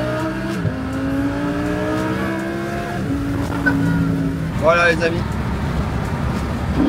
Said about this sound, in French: Ça veut dire que les oiseaux chantent et le V10 aussi.